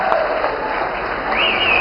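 An audience claps in a short burst of dense applause from a crowd, steady and fairly loud throughout.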